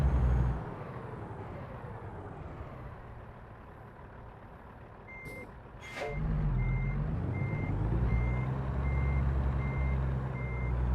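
A truck backing a lowboy trailer in American Truck Simulator drones steadily under repeated evenly spaced reversing beeps, with a brief sharp hiss of air brakes midway before the engine note rises again.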